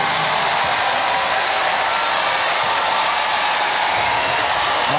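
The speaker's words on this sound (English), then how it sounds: "Austin out of Moanalua High School always gets a great round of applause." A crowd at a men's college volleyball match between Hawaii and Long Beach State fills the arena with dense, continuous applause for a server. The clapping stays loud and even for the whole stretch.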